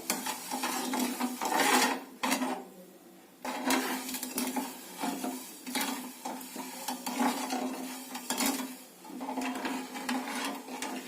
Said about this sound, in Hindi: अब हम चीनी घुलने तक ऐसे चलाते रहेंगे।